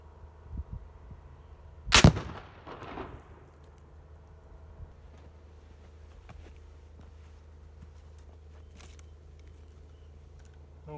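A single sharp muzzleloader rifle shot cracks loudly near the two-second mark and rolls off in a brief echoing boom, followed by quiet outdoor background with faint low hum.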